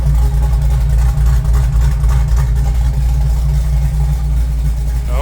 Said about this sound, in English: But this car always sounds good to me,